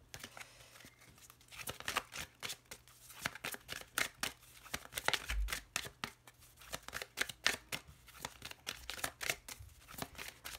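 Tarot cards being shuffled and cut by hand: a quick run of soft, close slaps and riffling flicks in an irregular rhythm, quiet throughout with no talking.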